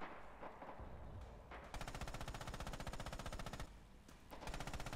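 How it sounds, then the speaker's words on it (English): Machine gun fire passing overhead in Red Orchestra 2, a rapid sustained burst of automatic shots after scattered earlier cracks, loud and dense, then another burst begins at the end. "I'm taking bullets over my head"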